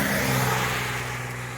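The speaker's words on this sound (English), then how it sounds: "I'm going to let a car go by." A car passes on a road at Allen Gap along the Appalachian Trail, a steady engine and tire rush close by that slowly fades as it moves off, with no voices.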